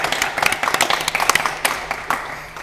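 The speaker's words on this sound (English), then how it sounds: "Give Sue a round of applause there." A game-show studio audience claps in a brief burst of scattered, uneven hand claps, fairly close and moderate in volume, thinning out toward the end.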